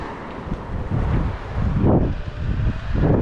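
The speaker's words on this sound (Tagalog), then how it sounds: "Lakas ng hangin, sarap." Strong wind gusting across a microphone outdoors in Korea, a loud, steady roar with broadband rumble that surges in heavier gusts, no voices heard.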